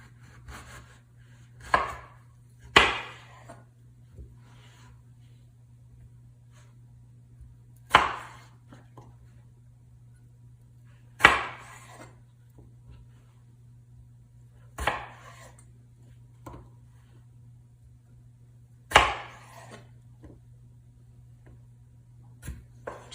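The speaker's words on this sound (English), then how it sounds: "you can go ahead and cube your smiley face" A knife cubing a cantaloupe melon on a cutting board: six distinct, sharp chops spaced a few seconds apart, close and fairly loud over a steady low hum, with no talking.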